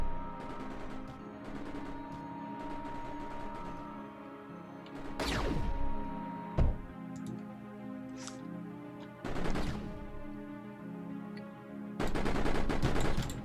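Turret fire in the Mindustry game, heard as repeated bursts of rapid gunfire and sharp blasts over a steady droning hum, with louder volleys near the middle and the end and no talking.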